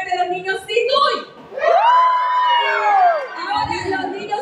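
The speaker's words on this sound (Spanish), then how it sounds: "Levante la mano y un grito fuerte los niños sin Dewey" A crowd of children shouts together in one loud, sustained cheer, rising after a brief lull amid surrounding chatter.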